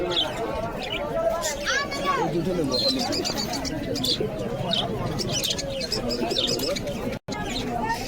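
Caged pigeons coo softly in a cluster amid chirping birds at a market, while people talk and a general murmur continues underneath.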